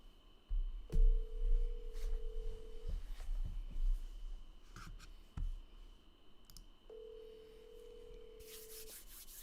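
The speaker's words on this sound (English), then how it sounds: "Come on, answer the phone, sir. Answer the phone." An outgoing telephone call rings, with two long steady ringback tones separated by a pause, over faint clicks and rubbing handling noises nearby, with no talk.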